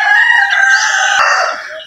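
Native farm chickens: a rooster crows loudly and close for nearly two seconds, with a brief cluck near the end.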